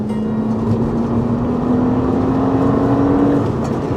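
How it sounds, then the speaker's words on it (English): A Honda Accord V6 engine hums steadily with a rising tone as it accelerates, loud and close, with no talking. "The engine sounds fantastic, makes really good torque"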